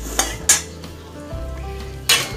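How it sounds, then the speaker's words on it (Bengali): Cumin seeds fry in butter and a little oil under a faint sizzle, broken by three sharp clanks of a utensil against the pan. "এই অল্প একটু তেল দিয়ে আমি মাখনটা দিয়েছি। এবার এতে 1/4 টিস্পুন আমি জিরে দিয়ে দিলাম"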